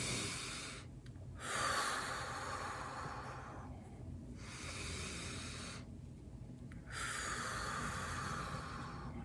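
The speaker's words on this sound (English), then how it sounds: "Breathe it out." A person breathes out deeply during a breathing exercise, in three long, close, airy exhalations separated by short quiet pauses.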